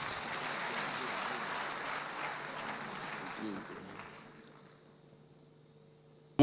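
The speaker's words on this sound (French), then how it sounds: "Monsieur Magatte Dieng, sous vos applaudissements" Audience applause at the 2022 Concours général ceremony, a broad wash of clapping that holds steady for a few seconds, then thins and fades away, leaving a quiet room with a faint hum.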